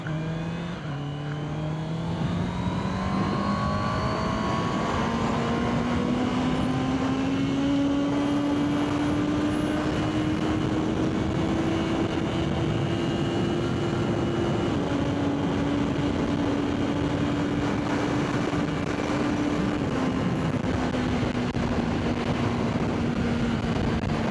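A power-reduced motorcycle engine held at full throttle and high revs for a long stretch, pitch climbing steadily then holding near the top, loud and close with no talking.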